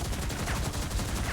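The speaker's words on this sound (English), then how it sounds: "Do have a couple of railgun shots." Continuous heavy weapon fire in the 2003 vehicle combat game SpyHunter 2, a loud, dense rhythmic pounding with closely spaced shots filling the whole moment.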